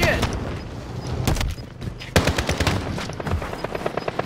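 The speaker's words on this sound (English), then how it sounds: "I'm taking fire here." Rapid automatic gunfire and sharp single shots in Call of Duty: Modern Warfare, loud and close, bursts of rattling fire mixed with booms while players talk over the action.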